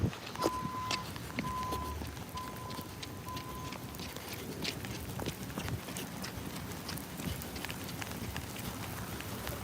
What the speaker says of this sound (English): Okay, we got a downpour.